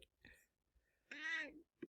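A house cat gives a single faint, drawn-out meow in a quiet indoor room, with a few soft, brief sounds around it.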